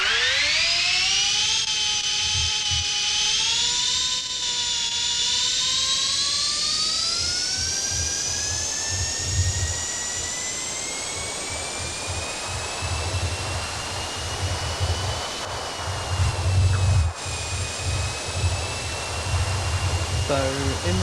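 The PERRINN 424 race car in a simulator game howls at Silverstone, a loud high engine whine climbing in pitch through gears and holding a sustained scream, with occasional low thumps and a person talking faintly underneath.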